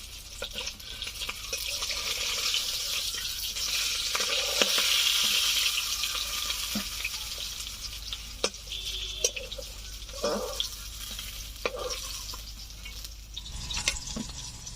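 Freshly caught river fish fry in oil in a covered pan, giving a steady sizzling hiss that swells and fades, broken by sharp crackles and spattering pops toward the end, with no talking.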